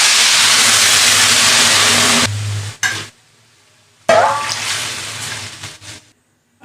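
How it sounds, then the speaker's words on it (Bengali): Water poured into a frying pan of fried spices and rice while cooking khichuri, a loud close hissing gush that stops, then a second hissing pour that bubbles and fades. "এবার আমি জলটা দিয়ে দিলাম।"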